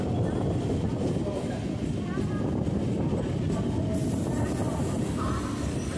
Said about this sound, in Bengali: তো ট্রেন এখন এসে পৌঁছে গেল আমাদের দমদম ক্যান্টনমেন্ট স্টেশনে।